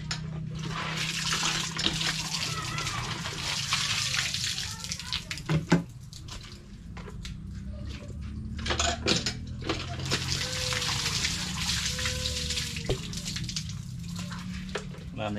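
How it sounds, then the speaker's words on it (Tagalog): Water runs and splashes steadily while vegetables or rice are rinsed, a continuous wet rush with occasional knocks and sloshes throughout. "Ngayon babanlawan naman natin ang tubig."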